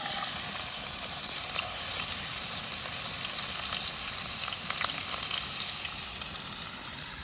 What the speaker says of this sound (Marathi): हा, आता कांदा टाकूया.